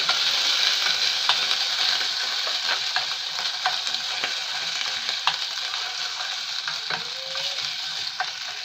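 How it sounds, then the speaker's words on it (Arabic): Onion frying in hot ghee for lentil soup, a loud close sizzle with scraping stirring strokes and small clicks of the spoon against the pan, no voices. "بعد ما السمنة سخنت كويس هنزل بقى عليها ببصلاية"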